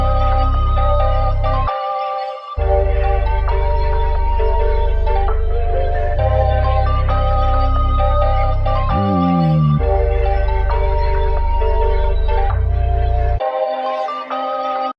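A chopped FL Studio sample layers mallet, bells, pad and deep bass into a loud, continuous melodic loop with chiming tones over a sustained low end, briefly dropping out in short gaps.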